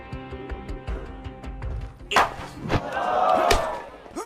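Spectators cheer from the stands at a baseball game, a crowd roar swelling in the second half, with scattered thumps and shouts in between.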